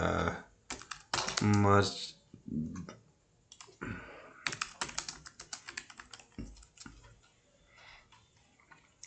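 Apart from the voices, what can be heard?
typing on a computer keyboard to search Fiverr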